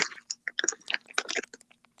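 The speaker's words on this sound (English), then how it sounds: "that bag crunching sound is killing my ears" Close, crisp crunching and chewing in quick irregular bursts as someone snacks near the microphone, with crackly rustles mixed in over about two seconds.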